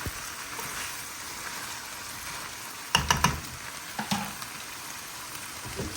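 Chickpea curry (chana bhuna) fries softly in a pan, a low steady sizzle with a short burst of scraping and clattering as it is stirred midway, close and fairly quiet.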